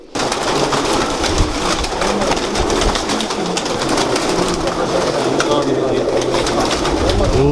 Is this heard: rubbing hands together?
no